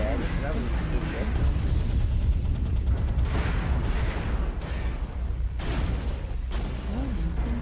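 Missiles launching and blasts landing in a mech combat game, a dense continuous roar of booms and rumbling impacts with a synthetic warning voice and a player talking over it.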